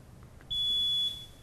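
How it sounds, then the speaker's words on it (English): A single loud, steady electronic buzz lasting about half a second, sharp onset and cutoff, in an otherwise quiet room. "Please ring in the buzzer though."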